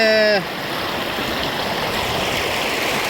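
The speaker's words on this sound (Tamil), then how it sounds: "இந்த கட்டை ஃபுல்லாக உடச்சி விட்டுட்டுருக்காங்க இந்த அளவுக்கு தண்ணி போய்க்கினுது" Water gushes through a breached lake embankment in a steady, broad rushing roar, heard close and continuous after a brief voice at the start.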